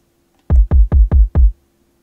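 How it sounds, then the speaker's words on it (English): Kick drum sample with added effects, including limiting and bass boost, thumps five times in quick succession, each a punchy, booming low hit with a short decay, alone against a faint background hum. "the kick sounds like this"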